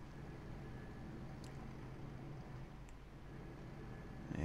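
A diesel train engine in the OpenTTD game gives a steady, low, purring drone that stays faint and unchanging throughout, with a slight swell at the very end.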